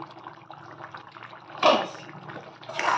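A pot of shrimp and kakrol (spiny gourd) curry coming to a boil, with soft close bubbling and gurgling and a couple of louder wet pops.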